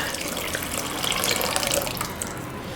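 Water runs steadily from a kitchen tap into a cooking pot of tamarind rasam, a continuous close splashing rush.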